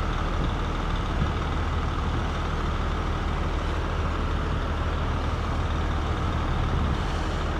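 A truck towing a wood chipper reverses through light snow, its engine a loud, steady diesel drone with a broad rumbling hiss that holds constant the whole time, no voices present.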